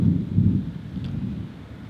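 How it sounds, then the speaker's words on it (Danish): A thunderstorm near a waterfall, heard as a steady, loud low rumble of rolling thunder blended with the constant roar of falling water, with no voices. "The other one is the sound of a thunderstorm."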